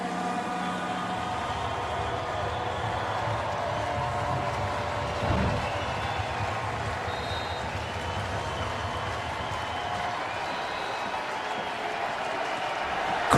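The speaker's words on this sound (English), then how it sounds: "Crowd back into this one." A stadium crowd roars at a 2018 NFL game between the Texans and the Titans. The sound is a dense, steady wash that holds level throughout with one brief swell.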